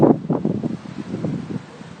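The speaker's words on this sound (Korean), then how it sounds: "바람 많이 분대." Strong wind at the seaside buffets the microphone in uneven low gusts and rumbles, close and fairly loud.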